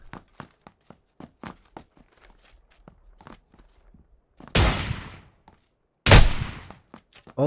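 Video game gunfire arriving as two loud, close bursts of shots, each about half a second, after a run of quieter rhythmic footsteps.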